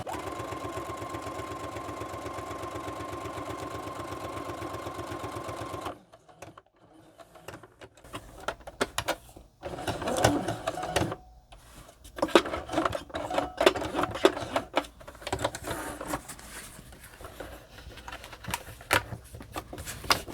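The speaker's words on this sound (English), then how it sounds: "Mr. Sewing Machine." A sewing machine hums steadily for several seconds, then stops, followed by scattered clicks, taps and handling noises nearby.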